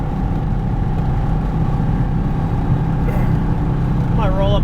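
Ferrari Dino engine warming up, a low steady rumble heard from inside the car with a constant hum and wind noise.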